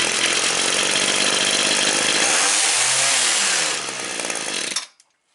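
A Ryobi HT26 gas hedge trimmer's small two-stroke engine runs loud and close with a harsh buzzing drone, dipping slightly in pitch before being abruptly cut off.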